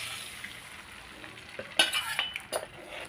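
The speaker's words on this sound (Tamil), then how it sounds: "அப்படியே கிண்டிக்கிட்டே இருக்கணும்" Rice flour dough for salted white kozhukattai being stirred in sesame oil in a pan: a faint, steady sizzle with a few brief scraping strokes of the spoon partway through.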